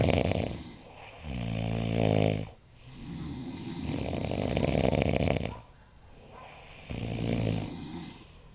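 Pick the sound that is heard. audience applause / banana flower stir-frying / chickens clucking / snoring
snoring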